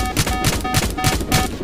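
Loud gunfire from the video game Roblox Jailbreak, a quick run of evenly spaced shots pounding out in a steady rhythm over a short burst, with no talking.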